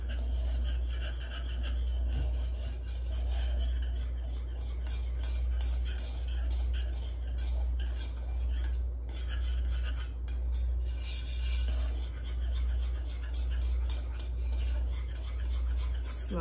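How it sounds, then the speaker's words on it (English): A utensil stirs grated cheese into a pan of homemade Alfredo sauce, making a continuous rhythmic scraping and swishing that repeats steadily over a low background hum. "you just stir and stir until all the cheese is combined and melted"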